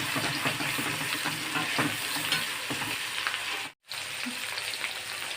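A ground paste of cumin, ginger, garlic and dried chilli fries in hot butter with a loud, dense, continuous sizzle, cut by a brief silence near the end before resuming.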